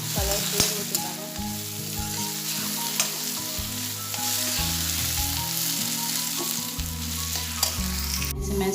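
Chopped onions fry in a pan with a loud, steady sizzle and crackle close by, broken by a few clinks of stirring, and nobody speaks.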